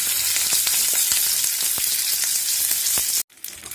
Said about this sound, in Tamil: ரெண்டு கடுகு எண்ணெய் நல்லா காந்திச்சு அதனால் ஆஃப் பண்ணிட்டேன் ஜீரகம் பச்சை மிளகாய்